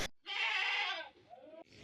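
A goat at a sacrificial livestock market gives a single loud, drawn-out bleat close by, ending in a shorter wavering cry.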